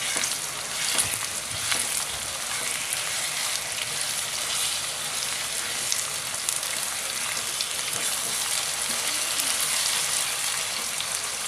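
Chicken keema frying in a pan with browned onions, a steady dense sizzle running throughout with occasional soft scrapes as the mince is mashed and stirred, close and continuous with no talking.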